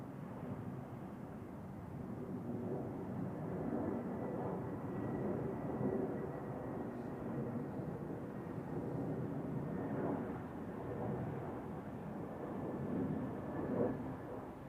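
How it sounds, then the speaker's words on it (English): An airliner lands at Zurich Airport with a steady, moderately distant jet rumble and roar that swells and eases over several seconds, outdoors with no talk. "Touchdown, spoilers up, welcome to Zurich."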